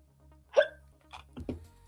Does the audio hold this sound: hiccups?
yes